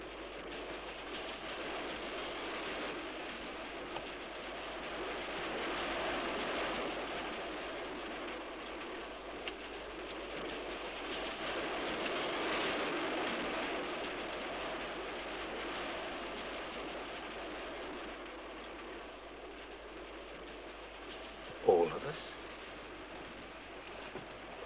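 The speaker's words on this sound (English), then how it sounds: "It's this train. It's gonna crash." A moving train rumbles on in a 1965 horror film, a faint, steady rolling drone with swelling wheel noise and a short sharp squeal near the end.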